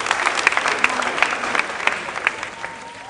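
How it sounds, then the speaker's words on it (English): Audience applause at a school quiz competition, a steady wash of clapping from a crowd of many hands with a few sharper nearby claps, holding evenly throughout. "A round of applause, ladies and gentlemen"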